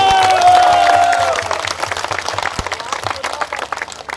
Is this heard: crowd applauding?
yes